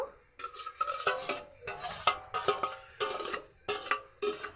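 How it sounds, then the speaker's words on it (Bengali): A spoon scrapes and stirs through sweetened mango puree in a kadai, making close, rhythmic swishing strokes in quick repeated bursts. "পিউরিটাকে নেড়ে নেড়ে জাল করে নিব"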